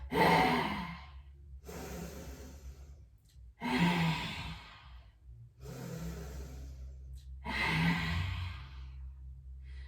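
Four forceful breath cycles in a yoga session: a quick inhale, then a long, breathy open-mouthed exhale with the tongue out, each a loud rushing sigh fading off, spaced a couple of seconds apart.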